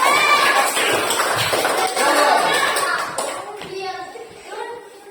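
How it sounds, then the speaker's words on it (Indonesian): A crowd of schoolchildren in a physical education class claps in a steady burst that fades after a few seconds, with young voices chattering throughout. "Yo, tepuk tangan"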